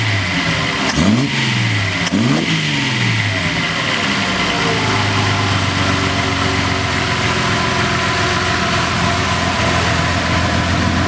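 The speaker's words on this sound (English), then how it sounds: "it feels like it's returning to a good baseline idle there, not too high" A tuned Nissan 260Z engine blips twice in quick revs, then settles into a steady, even idle that drones on close by.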